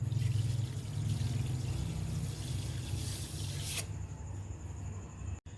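Sugar being poured into milk for sweet vermicelli, a soft continuous rustling pour lasting several seconds that fades out, fairly quiet and heard alone without speech.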